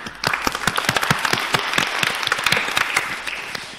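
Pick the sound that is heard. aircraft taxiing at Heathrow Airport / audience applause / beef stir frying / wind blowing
audience applause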